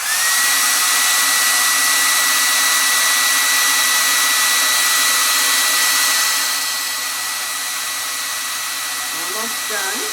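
A hair dryer blows on a layer of wet paint, a loud steady whine with a tonal hum that drops in level partway through, then runs on more quietly with a faint bump near the end.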